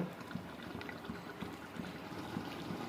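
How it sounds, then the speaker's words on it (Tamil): Hot water is poured into a pot of mutton cooking for seeraga samba biryani, a soft, steady trickling and splashing that runs unbroken at low volume. "இப்போது இந்த மட்டனுக்கு வந்து சுட ஹாட் வாட்டர் சுட தண்ணி ஆட் பண்ண போகிறோம்"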